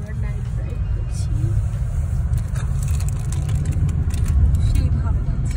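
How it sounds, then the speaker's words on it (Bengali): A car drives at night with a steady, low engine and road rumble running throughout, close and constant, while people talk over it. "আবার নাইট ড্রাইভ করছি।"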